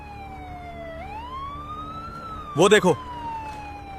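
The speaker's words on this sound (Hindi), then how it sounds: "एक एम्बुलेंस आ रहा है।" An ambulance siren wails steadily throughout with a rising and falling tone, coming closer, while a voice speaks briefly over it.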